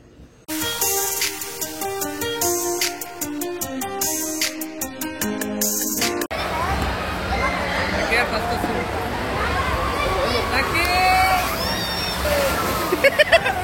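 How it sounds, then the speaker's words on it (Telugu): Wave pool at Escape Water Park in Shamsabad, Hyderabad: after several seconds of music, steady water splashing and sloshing rises, mixed with a busy crowd babble of many voices and occasional shouts. "ఇది వేవ్ పూల్ ఏరియా అన్నమాట"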